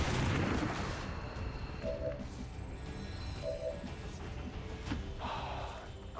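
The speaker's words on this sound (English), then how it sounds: "Throw grenade." A grenade goes off in XCOM 2, a loud booming blast at the start that rolls into a long, rumbling decay, with scattered game sounds afterward.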